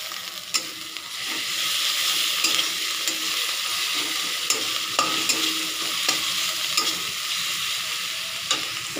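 Ginger paste sizzles steadily as it is stirred in a hot pan for a spicy doi chicken curry, with close scraping strokes of the spoon recurring over the continuous frying hiss.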